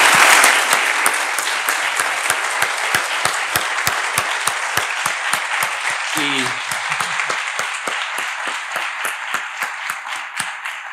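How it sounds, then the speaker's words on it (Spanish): A large audience at a university distinguished-alumni honour ceremony gives a big, sustained round of applause, dense clapping steady and loud throughout, with a brief voice rising through it midway. "lo que sí que procede, yo creo que es un gran fuerte aplauso"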